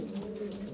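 A Belgian racing pigeon gives a soft, low cooing close by, a brief rolling murmur with a few gentle pulses and no talking.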